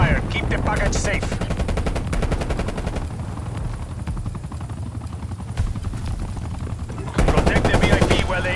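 Sustained automatic gunfire from the video game Call of Duty Black Ops Cold War, loud and dense bursts throughout, with a brief lull in the middle and a heavier volley near the end.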